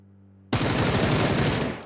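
Automatic gunfire in the console shooter PUBG on the Erangel map, aimed at a vehicle: a sudden rapid burst of loud shots that runs continuously for over a second after a low engine hum, then trails off.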